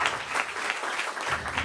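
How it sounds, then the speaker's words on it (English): A crowd at a speech applauds tenant organization leaders with dense, steady clapping throughout, fairly loud and close. "Let's have a round of applause for those who've been on the front lines."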